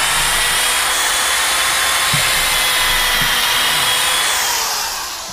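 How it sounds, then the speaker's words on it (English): A power drill runs continuously while boring holes for a hay wagon build, a loud steady whirring hiss up close that holds throughout before easing off slightly at the end. "you get to watch me drill holes"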